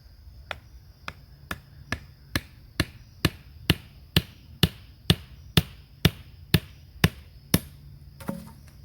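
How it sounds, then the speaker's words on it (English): A wooden stake being pounded into the ground, struck with about seventeen sharp, evenly spaced blows that build slightly louder through the middle, close by with no talking. "if you trim this back a little bit, it won't mushroom out so bad when you pound it into the ground"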